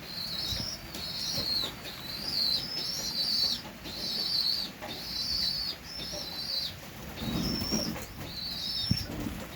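Pet pigeons in a loft give a run of repeated short calls at an even rhythm, with wingbeats and soft shuffling underneath, close and moderately loud.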